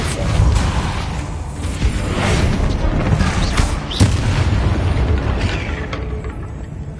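A Repulsor spell is cast in the video game Hogwarts Legacy, a booming, whooshing magical burst that rolls through dense, continuous game ambience, with a sharper hit near the middle.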